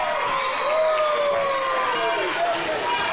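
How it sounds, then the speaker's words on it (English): Wrestling arena crowd roaring and cheering after a high-flying move, a dense sustained wall of voices with whistles and rising shouts across the whole stretch. "The crowd erupts."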